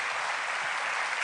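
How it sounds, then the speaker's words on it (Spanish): Loud, steady applause from a church congregation fills the space without a break, dense and close, with no voices standing out. "alabe al Señor con ese aplauso fuerte"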